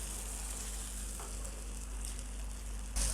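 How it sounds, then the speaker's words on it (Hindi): Boiled chickpeas are stirred into a pot of frying masala for street-style chanay, giving a steady close sizzle with faint scraping of the stirring, and a brief louder clatter at the end. "हमने अब चने डालना है, जो हमने चने उबाल के रखा था हमने अभी वो ऐड करना है साथ।"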